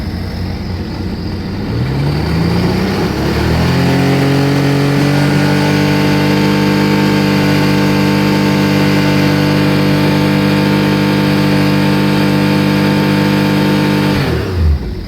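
A Sea-Doo RXT jet ski engine, recently repaired for a crankcase coolant leak, climbs from a low idle into a loud, sustained high-RPM drone that holds steady for about ten seconds before dropping off at the end.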